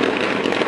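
Firecrackers burst in a dense, rapid crackling volley at a Tamil film fans' release-day celebration, loud and continuous for a brief moment with no voices.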